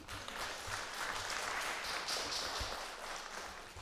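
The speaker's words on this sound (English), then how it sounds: "That deserves a round of applause, in my opinion." Steady applause from an audience at a congregational meeting, a soft continuous wash of many hands clapping, somewhat distant and quiet.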